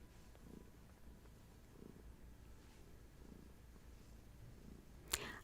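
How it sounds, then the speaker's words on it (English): Soft, steady low purring rumbles in quiet rhythmic pulses, close and faint, ending with a brief sharp click. "Yeah, you still purring?"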